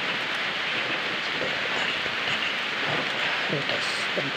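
Steady rain falls in an even, dense hiss that holds throughout, fairly close, with someone talking faintly beneath it.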